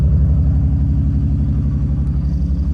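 An idling Nissan R33 Skyline engine that is misfiring and burning oil, a loud, close, low rumbling thrum with an uneven, stumbling pulse that repeats steadily throughout.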